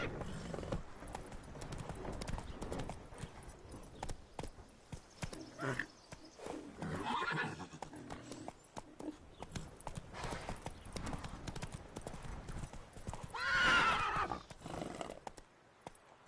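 Roach the horse galloping in The Witcher 3, rapid rhythmic hoofbeats running throughout with a couple of whinnies, a loud neigh standing out near the end.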